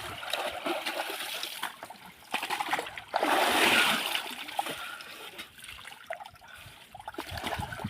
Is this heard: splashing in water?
yes